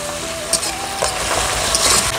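Onions fried until browned sizzle in a pan as garlic paste goes in, with steady frying hiss and a few sharp scrapes of stirring throughout, close and fairly loud, no talking.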